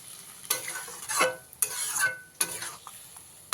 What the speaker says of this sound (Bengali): জলটা দিয়ে একবার ভালো করে মিশিয়ে দিতে হবে